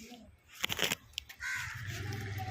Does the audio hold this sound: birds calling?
yes